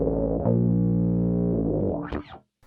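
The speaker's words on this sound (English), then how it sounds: "just a distortion pedal into an envelope filter" A thick bass guitar note through a distortion pedal into an envelope filter sustains with a buzzy, fuzzy growl, then sweeps upward through the filter and cuts off.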